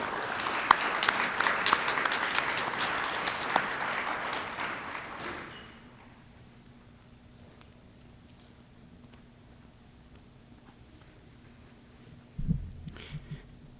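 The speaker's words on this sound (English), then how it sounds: "Let's give our newest members a round of applause" Audience applause for newly inducted members at a high school National Honor Society ceremony, a dense clapping burst that fades out after about five seconds, leaving quiet room hum and a brief thump near the end.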